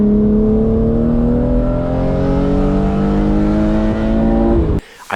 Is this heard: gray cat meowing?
no